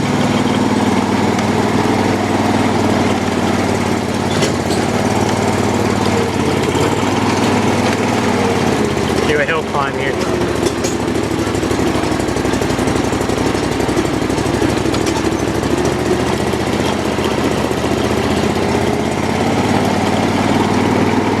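A John Deere riding lawn mower, a 345 or LT155, runs steadily close by for the whole stretch, its engine droning loud and unbroken with a brief shift in tone partway through.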